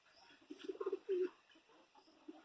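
A Madrasi pigeon coos softly nearby in a few low throaty bursts, one longer rolling coo in the middle, against a quiet background with no talk.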